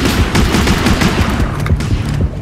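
Gunfire rattles in the underwater shark game Depth, with loud, close bursts of rapid shots piling over one another against a dense rumbling background.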